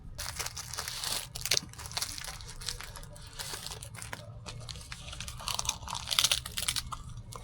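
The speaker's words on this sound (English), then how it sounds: "The seaweed is nice and crispy." Someone bites into and chews a sour plum rice ball wrapped in crispy seaweed, giving close, irregular crunches and crinkly crackles between softer chewing, with no speech.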